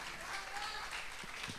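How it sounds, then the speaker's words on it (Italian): An audience at a modern dance competition applauds, a brief wash of clapping with crowd noise and voices mixed in. "Eleonora Santia, questo applauso è per te"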